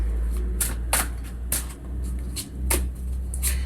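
Tarot deck being shuffled by hand in a quiet room, several short crisp riffles and card slaps spaced irregularly, close and fairly clear.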